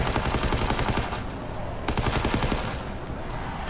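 A Bren LMG in World War 2 Zombies fires in sustained, loud automatic bursts. The shots come in rapid rhythmic cracks that run nearly continuously, with a brief dip midway.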